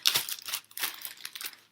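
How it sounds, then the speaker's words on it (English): A plastic bag is handled during a classroom vinegar experiment, giving a brief burst of close, crisp crinkling rustles in a few quick bursts. "Next, we're going to get our plastic bag,"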